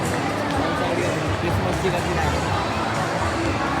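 Indoor shopping mall crowd chatter: a steady, dense murmur of many voices with people talking nearby, no single sound standing out.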